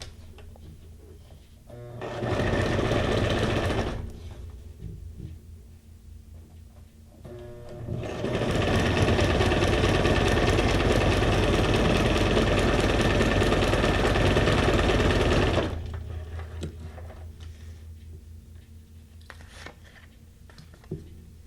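A sewing machine stitching a zigzag runs in two bursts, a short one and then a longer steady run of rapid mechanical whirring and clatter, with quiet pauses between and no talking.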